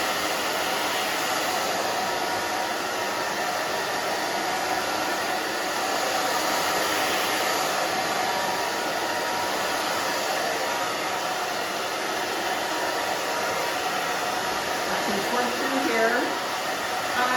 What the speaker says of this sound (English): now what we're gonna do is blow dry. Okay, we're gonna blow dry this back down